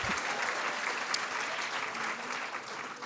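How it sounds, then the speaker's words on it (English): An audience at a white coat ceremony claps steadily throughout, a dense, sustained wash of many hands from a large crowd with no break in the applause. "I prefer the clapping"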